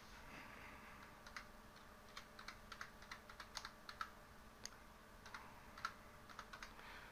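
Quiet, close computer keyboard typing, an IP address entered in short bursts of light, crisp key clicks with brief pauses, no voices.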